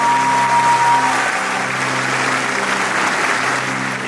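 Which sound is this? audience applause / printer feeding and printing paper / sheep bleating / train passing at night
audience applause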